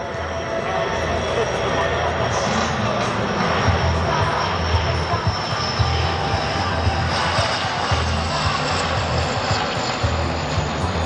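An Atlantique 2 maritime patrol aircraft of the French Navy flies past at the La Ferté-Alais air show, its engines giving a loud, steady roar with propeller drone that holds throughout, while an announcer talks over it.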